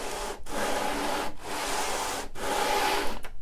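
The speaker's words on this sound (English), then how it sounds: "just gently sand off any piece that's a little bit high" Sandpaper on a sanding block rubbed over the edge of a wooden desk, four steady back-and-forth strokes with short pauses between, close and loud with a dry scratchy texture.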